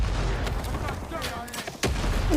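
Grenade blast amid battle in Rising Storm 2: Vietnam, a sharp broadband burst near the end cutting through a dense, continuous din of gunfire and background chatter, with voices talking over the chaos.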